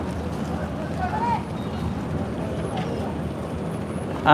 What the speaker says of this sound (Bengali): সকালবেলা কিন্তু অনেক ট্রলার আসে এখান থেকে এখান থেকেই যায়